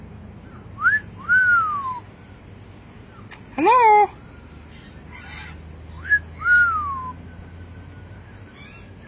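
A bird whistles near a Sarasota outing, clear rising-and-falling notes in a few separate phrases with pauses between, one sharper burst in the middle, over a quiet hum; a person briefly speaks.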